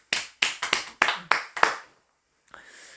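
An audience gives a round of thanks: seven sharp, evenly spaced claps, close and loud, followed by a brief silence and faint background noise.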